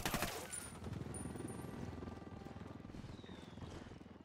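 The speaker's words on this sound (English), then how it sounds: "No, it's a helicopter." Helicopter rotor chop and rapid bursts of gunfire in the video game Ghost Recon Wildlands, a steady fluttering drone with crackling shots, fairly faint and distant.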